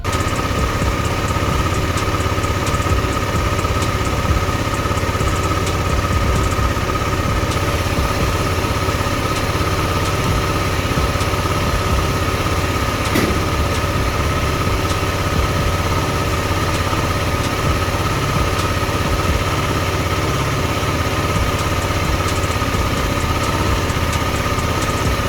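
A KTM Adventure 250 motorcycle engine idles steadily at close range, a continuous even rumble with a faint whine running unchanged throughout, with no talking.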